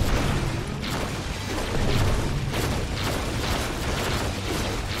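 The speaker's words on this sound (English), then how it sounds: "I love this bazooka gun" Bazooka fire in Orcs Must Die 2 amid a busy game battle, a steady dense clatter of mechanical clanks and muffled booms repeating roughly every second, fairly loud, with no voices over it.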